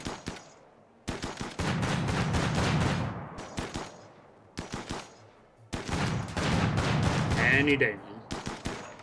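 Automatic gunfire as a man and a mech shoot at a wall in the colony game Rimworld, in long rapid bursts separated by short pauses, loud and close, with someone speaking briefly between volleys.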